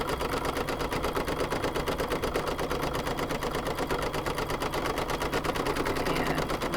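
An embroidery machine stitching a tack-down of fabric onto felt and stabilizer for an appliqué star coaster, a fast, even, rapid-fire needle chatter that runs close and constant without pause.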